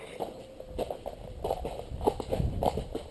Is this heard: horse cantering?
yes